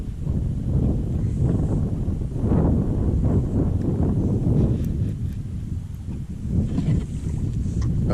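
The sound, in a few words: high wind on a lake while kayak fishing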